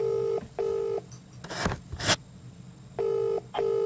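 A phone ringback tone pulses in two-part bursts, separated by a couple of brief rustling scrapes in the middle.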